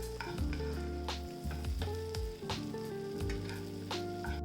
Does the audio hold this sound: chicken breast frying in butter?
yes